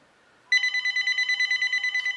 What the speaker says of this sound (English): Oh, I'm sorry about that phone.